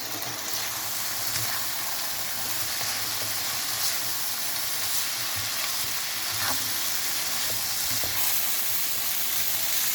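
Chopped carrots and capsicum frying in oil for chicken macaroni, a continuous hissing sizzle close by with occasional soft stirring scrapes, no talking.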